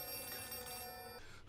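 An old telephone rings in a dark building in the horror game Outlast 2, a continuous bright electronic bell trill that holds steady and then cuts off near the end, with no voices over it.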